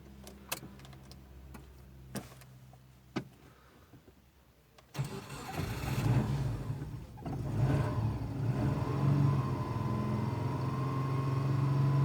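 A petrol car with a faulty oxygen sensor is started after a few clicks and key sounds, then its engine settles into a steady, close idle.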